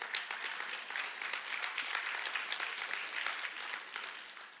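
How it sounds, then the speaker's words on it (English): Dense audience applause at a church-related main stage event fills the room, a steady crackling wash of many hands clapping at even loudness throughout. "I've never heard applause for going to an IEP meeting"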